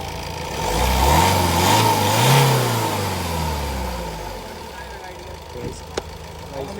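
A 1.5 litre diesel engine in a 2015 Honda Amaze i-DTEC sedan revs up in two rising and falling swells, then settles to a steady idle, close and loud.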